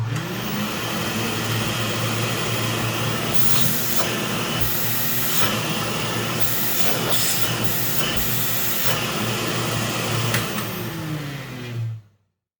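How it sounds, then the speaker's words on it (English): Steady broadband hiss of a lot of air leaking from the sides of the bag chamber on an old upright vacuum cleaner fitted with 3D-printed parts, loud and continuous for about twelve seconds before cutting off abruptly. "That was the sound of a lot of air leaking from the sides of the bag chamber."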